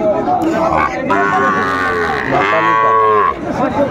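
Cattle at a livestock market let out a loud, drawn-out moo that rises and falls over a few seconds, with crowd chatter and market hubbub underneath.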